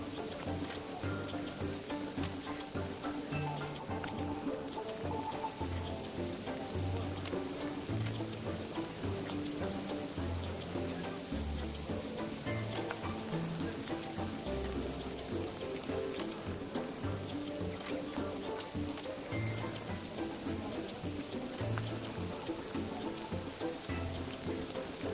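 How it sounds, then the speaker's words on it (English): Skewers of meat sizzle over an open fire with a steady, dense crackling hiss that runs unbroken and fairly close throughout, like rain on a surface. "Just listen to that sizzle."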